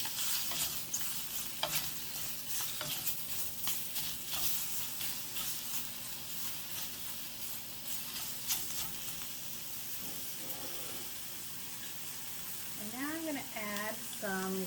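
Oil sizzles in a frying pan while a spinach and mushroom frittata is cooked, a steady crackling hiss with stirring scrapes, later joined by a brief tonal squeal near the end.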